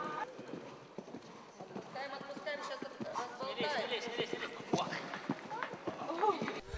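Horse hooves clip-clop in a quick, steady rhythm as acrobats ride into a Moscow circus arena, with a voice talking over the hoofbeats.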